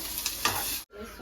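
Onion and green chilli fry in a pan, giving a steady soft sizzle with a few light stirring scrapes, fairly quiet and close, breaking off briefly near the end.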